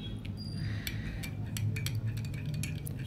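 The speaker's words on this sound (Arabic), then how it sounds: "اول ما نقلب كده" A spoon stirs a homemade weight-loss drink in a glass, giving light, irregular clinks and scrapes close by over a low steady hum, with no talking.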